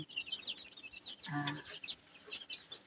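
Chicks about 17 days old cluck and chirp at a moderate distance, with one louder, drawn-out call in the middle and a busy flock chatter throughout.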